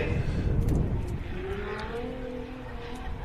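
A drift car with an SR20 engine runs at a British Drift Championships round at Teesside, its revving engine rising and falling as it passes, with a loud rush of noise early that eases into a steadier whine.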